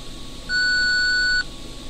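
An answering machine sounds a single steady electronic beep lasting about a second, clear and loud, before a voicemail message starts, with quiet line hiss around it.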